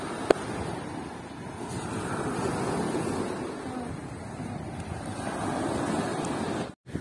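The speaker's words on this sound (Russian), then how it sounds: "Сегодня море немножко с волнушкой." Small sea waves at a sandy beach, a steady soft wash of surf with light wind noise throughout, moderately quiet and continuous, with a single brief click near the start and a short dropout near the end.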